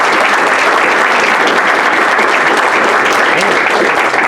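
Loud, dense audience applause at a county school board meeting honoring an undefeated 8th grade team, sustained evenly for several seconds with no talk over it.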